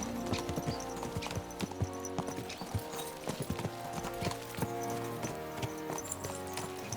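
Horse hooves clip-clop in steady, close rhythm on a road in the medieval game Kingdom Come: Deliverance II, the clattering beats continuing throughout with a low background bed beneath them.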